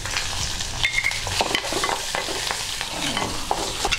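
Urad dal fries in a pan with tamarind and dried red chillies for mint chutney, giving a busy crackling sizzle with repeated stirring scrapes and light metallic taps, close and loud throughout.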